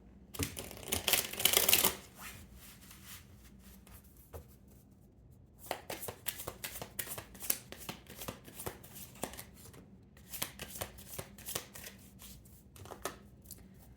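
Oracle and tarot cards are shuffled by hand in quick riffling bursts, a loud flurry at the start followed by repeated crisp flicks and taps with short pauses.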